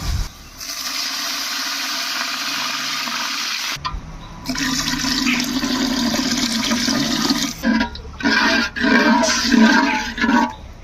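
Water pours into a pan of fried, reddened onions for mutton biryani, a loud sustained rushing gush that shifts into a sizzling, bubbling churn with uneven surges.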